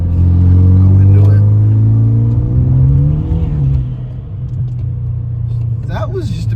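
A turbocharged Hyundai Veloster accelerates hard along a straightaway, its engine droning loud and close as the pitch climbs steadily, then eases off into a lower rumble while a voice talks over the road noise.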